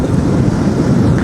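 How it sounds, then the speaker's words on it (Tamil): Rushing water flowing past on a weekend bike ride, a steady loud wash of broadband noise with some wind buffeting, continuous and close. "பாருங்க எவ்வளோ தண்ணி போகுது"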